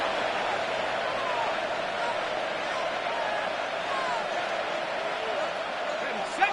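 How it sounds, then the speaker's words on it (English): A dense roar from a packed football stadium crowd at a Falcons–Raiders game, swelling steadily before a third-and-long snap and holding at a sustained broad wash of noise without pause. "The crowd cranking it up another notch before third and long"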